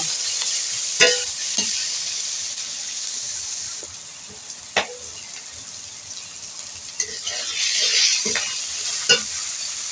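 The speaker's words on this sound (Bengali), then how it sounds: "রসুন বাটাটাকে দিয়ে ভালো করে নাড়াচাড়া করে নেব" Fried onion and garlic paste are stirred in a pan, with a soft continuous sizzle broken by several sharp scrapes and clicks of the spoon at irregular moments, close and fairly quiet, no voices.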